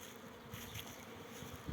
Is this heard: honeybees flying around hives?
yes